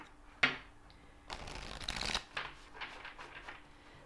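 A tarot fairy card deck being shuffled, with a sharp riffle snap near the start followed by a longer run of soft, repeated papery shuffles, close up and quiet with no talking.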